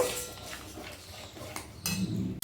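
Yogurt is stirred into a fish curry, Bengali doi katla, in a pan, with a spoon scraping and clinking against the metal in a few short strokes over quiet cooking noise.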